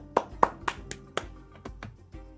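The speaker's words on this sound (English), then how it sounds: "I was clapping my hands together and it was making a plap sound." A person clapping hands together, about eight close claps at an irregular, slowing pace, each a sharp smack that fades quickly.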